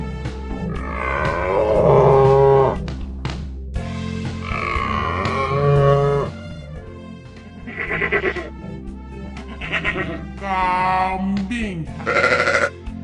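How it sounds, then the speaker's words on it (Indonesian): A cow lets out several long, drawn-out moos at close range, spread across the clip over a soft, steady musical backing. "Sapi."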